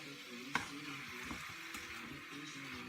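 Seasoned chicken sizzles and fries in a pan while being stirred, a faint steady crackle with a sharp clink of the utensil early on and soft scraping movements.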